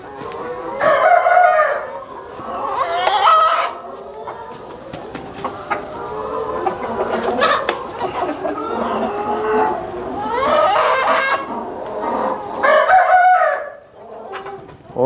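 Several roosters crow repeatedly, their calls overlapping and rising and falling, with a few clucks and farmyard noise in between.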